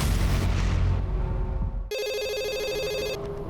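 A telephone rings in a Crime Patrol police drama, a steady electronic trill that starts suddenly after a burst of loud, rumbling noise and continues for more than a second, clear and close.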